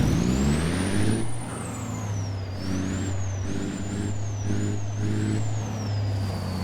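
An American truck in a driving simulator game idles with a steady low engine drone while parking, with a sharp air brake hiss near the start, then the engine varies slightly as it maneuvers; no talking.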